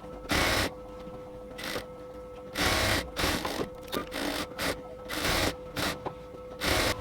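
Sewing machine stitching the side seam of an XL women's dress top, running in repeated short bursts of broadband mechanical whirring separated by brief quiet pauses, close and moderately loud.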